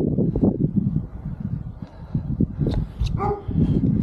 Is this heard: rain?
no